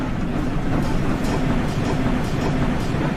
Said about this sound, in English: Steam train.